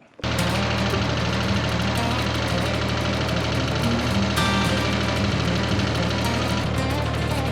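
A tractor's heavy diesel engine idles steadily with a deep, constant rumble and faint knocking, loud and close for several seconds.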